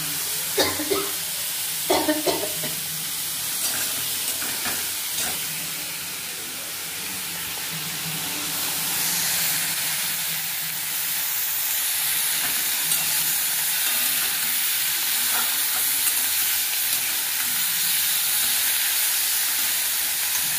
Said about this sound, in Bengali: লাউটাকে ভেজে নিয়েছি